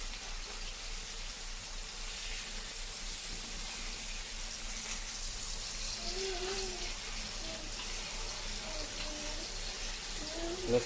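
Fish frying in a pan of hot oil, a steady broadband sizzle that holds evenly throughout at moderate loudness, with a few faint tones and a sharp knock near the end.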